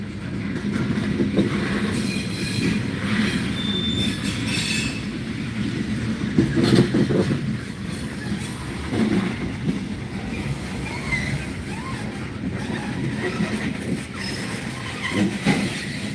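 Norfolk Southern freight train rolling slowly through a rail yard, a steady low rumble of wagons and wheels with occasional metallic squeals, continuous and fairly close, no voices.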